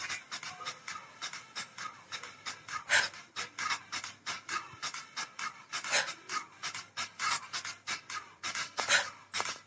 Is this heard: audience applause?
no